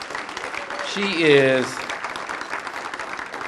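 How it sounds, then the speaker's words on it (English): Audience clapping for the council chair at a minority business procurement conference, a steady, moderate patter of many hands heard throughout while a voice speaks briefly over it. "Can you give her a round of applause?"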